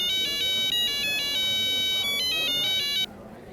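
A phone ringtone plays during a call to a lawyer, a loud, close, repeating electronic melody of bright beeping tones that cuts off abruptly after about three seconds, leaving faint background hiss.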